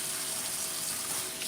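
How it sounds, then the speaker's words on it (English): Tap water gushing steadily while pork ribs are rinsed in a sink, a continuous close rushing flow with no voices. "I'm gonna go ahead and rinse them off"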